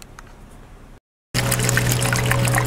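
Bonding agent is poured into a bucket of water and dye while mixing mortar for tuck pointing, a loud, continuous liquid gush starting after a short gap of quiet, with no talk over it.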